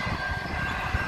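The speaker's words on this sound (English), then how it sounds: "That's a very long train." A long train rolls past on the railway, a steady low rumble of wagons and rail noise heard alone at moderate distance for a brief stretch.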